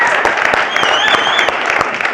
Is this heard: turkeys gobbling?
no